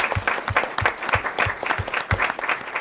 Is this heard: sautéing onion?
no